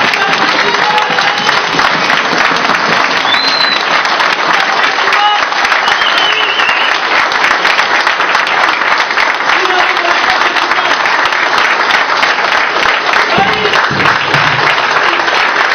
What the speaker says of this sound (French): Ces applaudissements qui n'en finissent pas